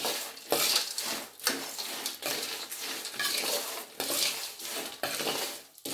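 Spoon stirring poha tempering in a pan, steady scraping and clinking strokes in a repeating rhythm over a soft sizzle of frying, close and moderately loud, with no talking.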